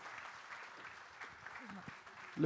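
Brief applause from an audience at a political event on cutting bureaucracy, with scattered clapping under someone talking and a louder burst at the end.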